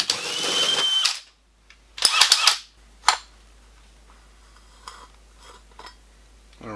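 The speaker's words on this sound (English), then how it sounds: "Right now I'm going to drill in a hole for the drain for the washing machine." A power drill bores a hole through a wall for a washing machine drain line at an off-grid homestead build, loud whirring bursts in a few short runs, then quieter clicks and handling noises.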